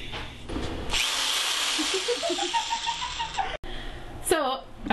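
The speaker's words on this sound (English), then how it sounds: "when we're drilling right through our press" A power drill bores through a wooden book press for DIY bookbinding, its whine rising loud and steady for a few seconds before cutting off, then a brief second burst of drilling.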